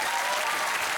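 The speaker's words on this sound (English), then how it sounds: "Round of applause, please, for Julia." Studio audience applauding steadily for Julia at a comedy improv show, a dense, loud wash of clapping with no gaps.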